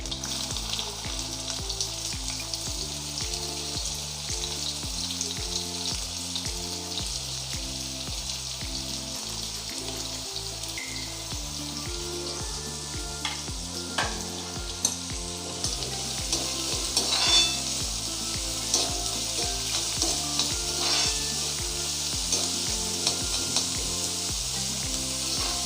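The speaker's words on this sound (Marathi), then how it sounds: "कांदा व्यवस्थित शिजवायचा" Finely chopped onion frying in a pan for a dry shrimp masala, a steady soft sizzle with occasional stirring scrapes, heard close and alone beneath a looping background music track.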